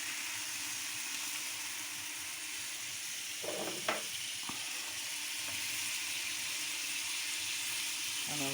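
Venison frying in butter in a pan, a steady soft sizzle running throughout with a couple of brief clinks and stirring sounds midway, no talking.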